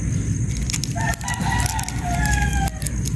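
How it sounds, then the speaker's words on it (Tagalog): A rooster crows loudly nearby, one long drawn-out call, with hens clucking around it and faint background rumble. "Kundi mga manok lang yung nag-iingay."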